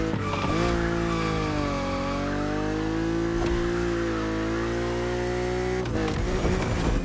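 A BMW Z4 E89 coupe cabriolet in The Crew Motorfest holds a steady, loud engine drone with smooth pitch shifts, then briefly flares with tire squeal and revving near the end.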